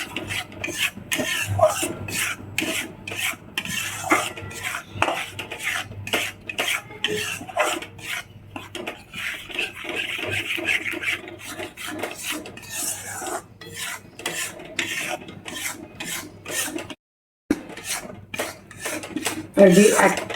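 Flour roasting in ghee in a pan over low heat for sukhadi, with a steady close scraping and stirring of a spatula against the pan and a faint sizzle throughout, briefly pausing near the end.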